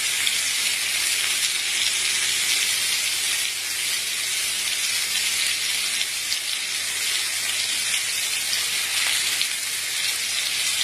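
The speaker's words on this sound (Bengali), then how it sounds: "ভালো করে ফ্রাই করে নেবো।" Pumpkin and potato pieces fry in oil tempered with cumin, giving a continuous, even sizzle that stays steady throughout, with no voices.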